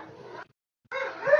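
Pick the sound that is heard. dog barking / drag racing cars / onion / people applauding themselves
dog barking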